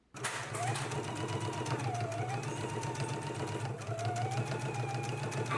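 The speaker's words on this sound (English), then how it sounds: "we can go to the sewing machine" A sewing machine stitches steadily and close by, a fast rhythmic mechanical hum that barely changes pitch across the whole stretch.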